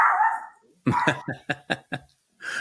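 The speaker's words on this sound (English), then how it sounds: "The dog got very excited." A dog barks excitedly in a quick series of about six loud, close yaps after a breathy whine, with no talk over it.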